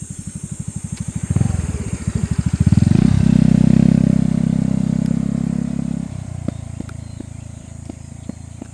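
A motorcycle engine putters nearby, its revs climbing into a loud, steady roar before easing off as it passes; faint ticking sounds follow.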